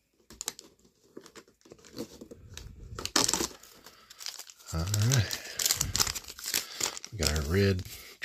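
Plastic baggie from a Star Wars Droid Factory advent calendar being opened, crisp crinkling and rustling close up, with someone talking over parts of it.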